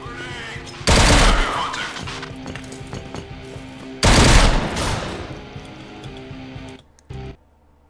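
Gunfire in a free zombie shooter video game: two loud, dense bursts of rapid shots, each crashing in and fading over a couple of seconds, followed by a short final burst.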